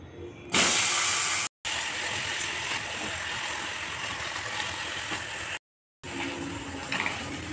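Paneer pieces fry in hot salted oil, making a continuous, even sizzling hiss that is interrupted by two abrupt cuts to silence.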